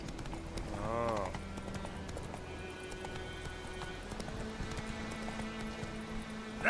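Roach the horse clip-clopping in The Witcher, with a steady rhythm of hoofbeats under ambient game sounds and a brief whinny-like call near the start, at moderate distance and fairly quiet.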